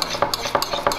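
Coleslaw sauce for Texas barbecue being stirred by hand in a bowl, heard as close, rhythmic scraping and sloshing strokes, about four in quick succession, with no talking.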